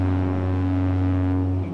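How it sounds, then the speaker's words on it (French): A ship's horn in the Roblox game Shipping Lanes sounds one long, steady, deep blast, loud and close, holding for nearly two seconds before tapering at the end. "Vous klaxonnez pour dire bonjour."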